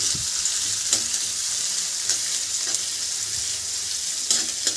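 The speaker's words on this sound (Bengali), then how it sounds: "এখন পেঁয়াজগুলো ওকে আমাদের ভেজে নিতে হবে।" Chopped onions fry in a pan with a continuous close sizzle, broken by a few sharp stirring clicks and scrapes. No one speaks.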